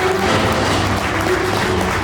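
An audience applauds in a hall, a dense and steady burst of clapping heard close and loud all the way through.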